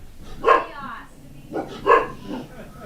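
A Great Dane barks indoors: several deep, loud barks in two close pairs, with a softer yip between them and short pauses.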